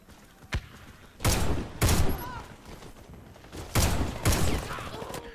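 Gunshots in the Warface video game played on console, in two pairs of loud bursts separated by quieter gaps, with a single sharp crack near the start.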